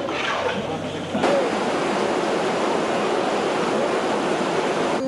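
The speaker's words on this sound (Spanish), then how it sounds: "En cuestión de minutos, autos, muebles y casas fueron arrastrados por la corriente de agua" A flooded river in San Felipe Orizatlán, Hidalgo surges through town, its rushing water roaring as a loud, steady, continuous wash that swells slightly a second in and holds without pause.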